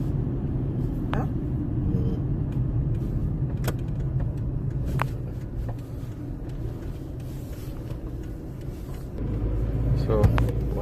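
A car rolls along a local park on East 216th Street in the Bronx. It makes a steady road rumble with engine drone close up, and a few clicks and rattles cut through the noise.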